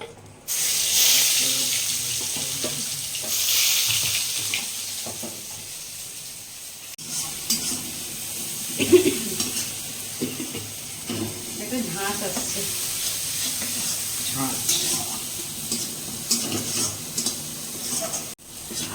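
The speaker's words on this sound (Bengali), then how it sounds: "বাটা আর কাঁচা লঙ্কা বাটাটা আমার হালকা ভাজা হয়ে গেছে" Ginger and green chili paste frying in a pan, a soft continuous sizzle with stirring scrapes and a few utensil knocks, fairly close and fading slightly toward the end.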